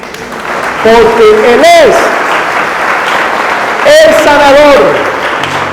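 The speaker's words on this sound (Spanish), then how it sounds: "Démosle ese aplauso a Jesús" Church congregation applauding during a Spanish-language sermon, two loud bursts of clapping and cheering from a crowd with a preacher's amplified voice speaking over them.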